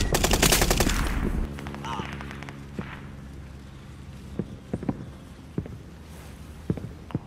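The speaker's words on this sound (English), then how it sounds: "We're getting shot from behind." Rapid automatic gunfire in a multiplayer shooter video game, a loud close burst that cuts off abruptly, followed by a droning engine hum and scattered sharp single shots and impacts.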